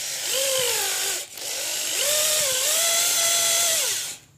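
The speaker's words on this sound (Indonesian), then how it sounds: "Kalau teman-teman ada bor 8 mili juga nggak apa-apa memakai asdrat bor mata bor 8 mili" A power drill fitted with an 8 mm bit bores out and widens the centre of a hole, its whining motor rising and dipping in pitch over two long loud runs with a short pause between.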